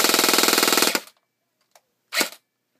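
A G&G GR15 Raider XL airsoft rifle fires a rapid full-auto burst of about a second, close and crisp, followed by a couple of isolated mechanical clicks in near silence.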